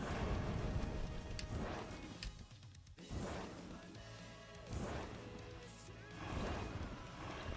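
Toxic downpour rain in the Terraria Calamity mod, a steady broadband wash of game rain that runs through the whole stretch, mixed with sharp crashing effect hits and bursts from gameplay.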